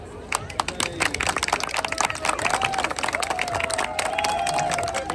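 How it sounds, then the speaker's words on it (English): Applause and cheering from an evening political gathering audience welcoming a Labour candidate for Enfield, with dense clapping, whoops and voices running steadily throughout. "Give a big round of applause"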